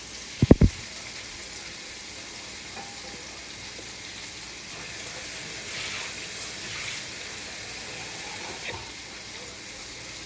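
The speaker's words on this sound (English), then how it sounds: "I'm going to add a little bit of water and then just let it simmer" Warm water pours steadily into a pot of chicken wing stew with okra, a soft continuous hiss with a faint sizzle, after a brief knock at the start.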